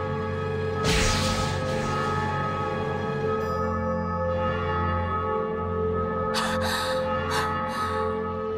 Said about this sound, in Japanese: 聞きたまえ、諸君の弔いの鐘だ